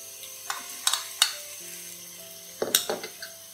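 Chopped tomatoes dropped into hot oil with garlic and curry leaves, a steady low sizzle broken by several sharp clinks and stirring scrapes of a utensil against the pan, close up with no talk.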